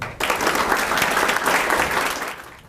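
Luncheon audience applauding to welcome Professor Joaquim Falcão, a sudden onset of dense, full clapping from a crowd that holds steady and loud throughout.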